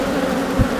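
Honeybees buzz around an open hive during a routine inspection with the queen just released, a loud, close, continuous low hum.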